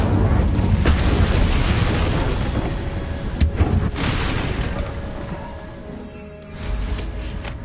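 Incendio fire spell bursting in Hogwarts Legacy, a loud sustained roaring blast with sharp crackling pops and a few strong impacts, easing slightly toward the end.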